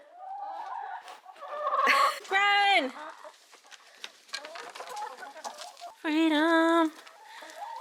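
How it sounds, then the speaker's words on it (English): Farm chickens cluck and squawk as they are let out of their coop in the morning, with a couple of loud drawn-out calls standing out over excited, breathless talking close by. "we gotta let the chickens out"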